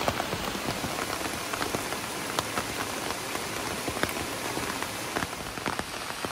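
Rain falls at a waterfall beside the Hoosac Tunnel in a dense, steady patter with scattered sharper drops hitting nearby surfaces. The hiss is even and continuous throughout.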